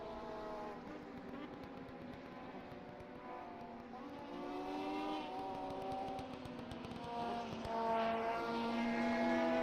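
A P2 race car at Suzuka passes with a rising, distant engine whine that climbs in pitch, blended with other car engines in a quiet, faint backdrop.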